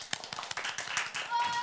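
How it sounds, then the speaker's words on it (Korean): A small church congregation claps for a child in a Korean Wednesday Bible study, a quick burst of brisk, irregular hand claps lasting under two seconds with voices mixed in. "박수를 한번"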